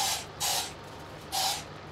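Crop sprayer spraying in the Farming Simulator 22 video game: loud bursts of hissing spray, three separate gushes with short quiet gaps between them, with no talking.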